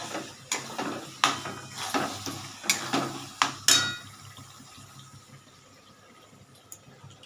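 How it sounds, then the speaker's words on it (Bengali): Metal spoon or utensil clanks sharply against a cooking pan in a home kitchen while preparing a curd and poppy-seed rohu fish dish, several distinct knocks in quick succession, then quiet with a faint splash of water. "এই জলটা আমি এখানে দিয়ে দিচ্ছি।"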